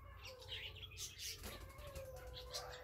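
Small birds chirping at a zoo in Quiché, Guatemala, with faint scattered tweets and calls over a low background hum, fairly distant and quiet.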